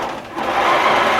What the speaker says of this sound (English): it took about 20 minutes to load the quilt into the machine, and it's going to take about 3 hours to do all of the stitching